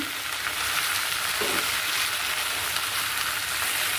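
Jute leaves frying in a salted pan, a dense continuous sizzle with soft stirring, close and unbroken, no talking.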